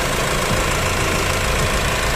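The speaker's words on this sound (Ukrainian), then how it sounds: "І робота двигуна." A Honda CR-V 2.2 i-DTEC diesel engine idles steadily up close, a constant low rattling clatter with even, unchanging loudness throughout.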